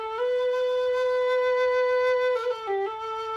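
A low whistle plays sustained, pure-toned notes with gentle vibrato, moving down through a few pitches near the end, clear and alone at a moderate level.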